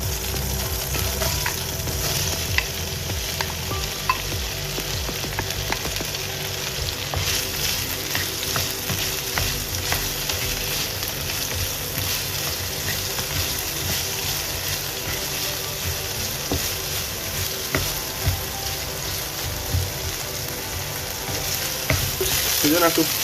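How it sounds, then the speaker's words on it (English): Sliced okra (bhindi) stir-fried in hot oil after prawns were cooked in it, a steady loud sizzle with scraping stirring strokes running throughout, no talking. "Now in the very same oil, I'm going to stir fry bhindi."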